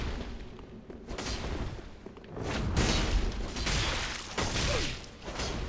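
The Perseverance weapon art in a fantasy action video game, used to break an enemy's poise, heard as a series of heavy impacts and bursts with metallic clatter amid ongoing combat noise, loud and close.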